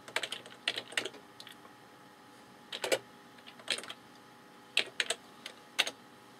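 Sparse, light keystrokes on a computer keyboard as a port name is typed, scattered clicks in small clusters with pauses, quiet and close against faint background hiss.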